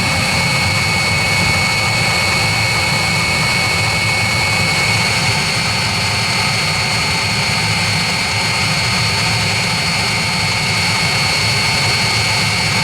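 A 16 kW Chinese diesel water heater runs with a loud, steady, unbroken roar like a blower or jet, holding a constant whine for the whole stretch. It is close and alone, with no voices.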